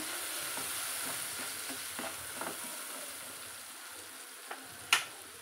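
Chili powder and turmeric are stirred in a frying pan over a steady, quiet sizzle, with faint scraping strokes and a sharper single clink near the end.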